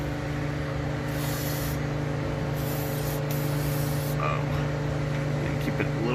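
Steady hissing aerosol spray aimed at the catalytic converter bolts under a 2014 Ford Mustang V6, a continuous close-up spray that runs the whole time over a low humming background.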